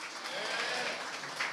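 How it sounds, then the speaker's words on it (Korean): An audience at a book talk with author Yoo Si-min applauds with soft, even, sustained clapping that sounds distant and fairly faint. "너무나도 좋은 이야기 들려주신 우리 유시민 작가님께 계속해서 박수 한번 부탁드리겠습니다"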